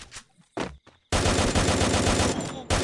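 A few sparse shots ring out in a shooting video game, then a loud sustained burst of rapid automatic gunfire rattles on for nearly two seconds.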